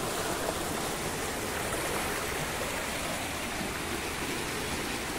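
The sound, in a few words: gushing water flowing in a stream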